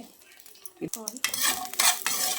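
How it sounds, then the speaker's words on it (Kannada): Red chillies and garlic frying in a pan for a Kannada fenugreek chutney, a sizzle that swells into a loud steady hiss with scraping stirs and a spoon clinking against the pan, no talk. "ಇದಕ್ಕೆ ಬೆಳ್ಳುಳ್ಳಿನ ಹಾಕಿ ಫ್ರೈ ಮಾಡ್ಕೋಬೇಕು, ಒಂದು 2 ನಿಮಿಷ ಫ್ರೈ ಮಾಡಬೇಕು"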